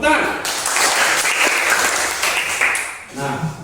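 A class of students claps together in a classroom, a brief burst of applause that overlaps a teacher's speaking voice at the start and end.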